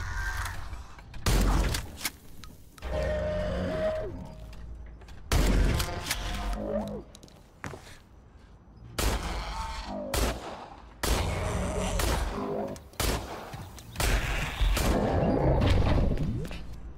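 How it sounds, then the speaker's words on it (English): Bolt-action rifle in the video game Industria: heavy, booming single shots spaced several seconds apart, each followed by mechanical clatter of the bolt being worked and reloading noises. "I really like the bolt action rifle."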